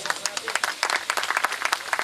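Audience applause at a community felicitation ceremony and social gathering, a dense burst of many hands clapping steadily at moderate distance for a couple of seconds.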